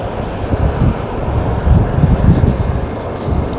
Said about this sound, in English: Probably hear the breeze coming in from my back,